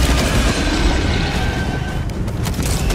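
Thunderous mortar stratagem blasts from a video game, a dense continuous roar of overlapping booms filling the whole stretch at steady high loudness with no pauses.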